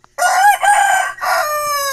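A rooster crows loudly and close by in one long, clear call, broken into a few sustained harmonic stretches with a brief dip between them.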